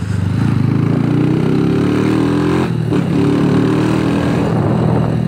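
A Honda motorcycle with an aftermarket exhaust pipe roars loudly up close, its engine note climbing steadily. The throttle briefly dips midway, then the engine pulls on with a continuous, buzzing drone.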